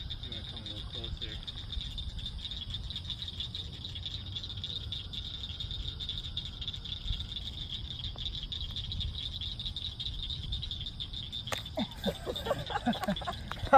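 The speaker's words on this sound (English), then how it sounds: "This is a big frog." A large bullfrog calls in a steady, continuous chorus at moderate distance, a dense low croaking texture over a constant insect-like buzz, with handling noises building near the end.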